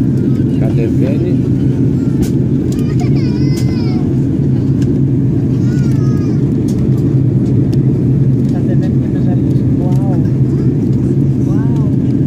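Loud, steady cabin roar of an airliner descending toward JFK airport in New York, a continuous low rumble that fills the whole stretch, with someone talking intermittently over it.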